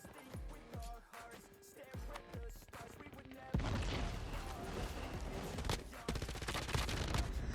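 An MG82 machine gun in Call of Duty Mobile fires as a few separate shots, then breaks into long, dense, continuous automatic bursts that are loud and close, with game effects underneath.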